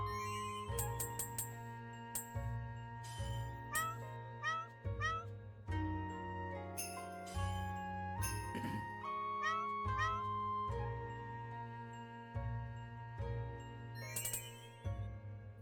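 A cartoon cat in a puzzle video game meows again and again in short, bright chirps, set over tinkling, chiming game music that plays throughout.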